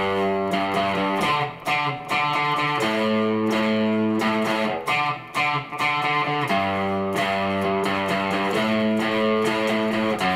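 Distorted rock guitar mixing short choppy staccato notes with long sustained held notes and chords, loud and close with no voice.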